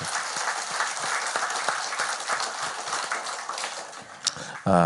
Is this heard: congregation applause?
yes